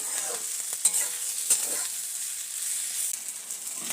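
Beans being stir-fried in a pan, a steady close sizzle with sharp stirring clicks and scrapes near the start, then a calmer continuous frying hiss.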